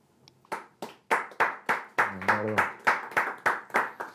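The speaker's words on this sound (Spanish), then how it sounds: "Un aplauso." An audience claps in slow, evenly spaced rhythmic beats, about three per second, at a talk with a Falklands (Malvinas) veteran, while a voice briefly speaks over the middle of the clapping.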